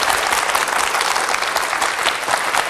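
A studio audience at a televised lecture welcomes a philosopher with vigorous applause. Many hands clap in a loud, dense, continuous wash that holds steady throughout, with no speech over it.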